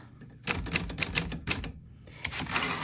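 A 1947 Clipper manual typewriter is typed on after the margin release is pressed: a quick run of sharp key strikes up close, a pause, then further softer clacking.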